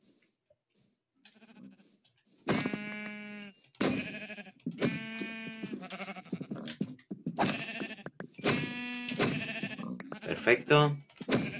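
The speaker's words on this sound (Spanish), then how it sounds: "Mira, aquí hay ovejas." Sheep in a video game bleat in several loud, wavering calls spaced across the stretch, with someone talking in between and over them.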